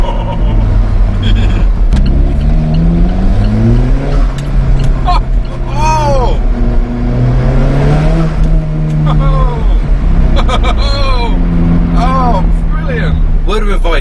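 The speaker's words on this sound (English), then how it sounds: "I want to hear this turbo." Alfa Romeo 4C Spider turbo engine accelerating with the window down on a cold day, a loud rising drone under steady talk from a person inside the car, with repeated swells of revs.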